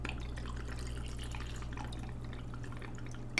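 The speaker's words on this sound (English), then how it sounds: "Use either your jigger or pour spout for 2 ounces of white rum." White rum poured from a jigger or pour spout over ice in a glass, a steady liquid trickle with small dripping splashes, close and fairly even for a few seconds under a low background hum.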